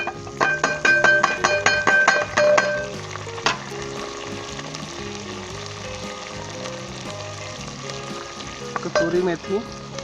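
Steady oil sizzle from a hot pan frying green chilies, garlic and ginger, with a burst of clattering stirring early on and a few scraping stirs near the end.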